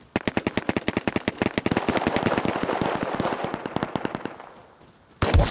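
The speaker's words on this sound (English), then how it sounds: "Why are you shooting at me when there's gunshots?" A rapid string of sharp gunfire bursts in the survival game Rust, loud and evenly spaced, trailing off into a quieter stretch before a final abrupt noise.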